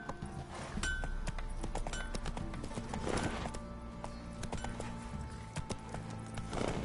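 Horse hooves clip-clopping at a steady trot in The Witcher 3, a continuous close rhythm over game music and ambience, with a brief whinny mixed in.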